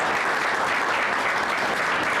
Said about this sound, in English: A round of applause for Mr. Kennedy, everybody.